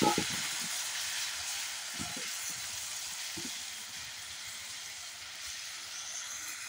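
Dried kachki fish with potatoes and flat beans frying in a pan in a village kitchen, a steady broad hiss of sizzling oil with a few soft clinks and scrapes near the start, constant and moderately loud.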